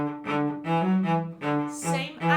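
Soft, short detached bowed notes on a string instrument playing the opening of Robots' March, a Grade 5 exam piece, in four clear phrases with a brief gap between each, close and solo.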